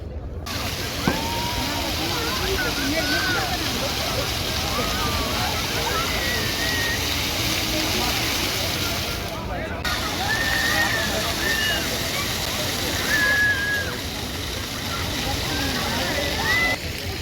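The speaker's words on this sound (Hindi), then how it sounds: "माशाल्लाह बच्चे वगैरह यहाँ पे नहा रहे हैं पानी में" Water sloshing and splashing steadily with children bathing in it outdoors along the Quba track toward Masjid an-Nabawi, a continuous wash of water close by with occasional brighter splashes and a voice over it.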